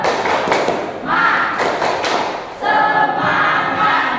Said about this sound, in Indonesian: Sekali lagi yang keras ya. Yuk, 1, 2, 3. Tepuk semangat.